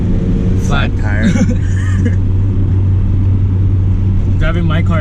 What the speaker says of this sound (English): Driving my car this time.